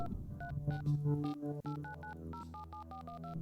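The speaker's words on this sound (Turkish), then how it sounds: "Numara falan aratıyor kendi." Telephone keypad dialing tones play in the computer game Please, Don't Touch Anything: a rapid series of short electronic beeps over a steady low background hum.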